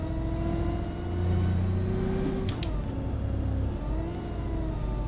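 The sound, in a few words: Enviro400 City bus engine revving on an incline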